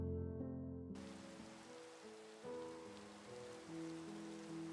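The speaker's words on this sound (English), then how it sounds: "you join me today on a rainy afternoon" Steady rain patters and hisses across the whole stretch in a video game, a dense even wash under a low, sustained musical tone, with no talking.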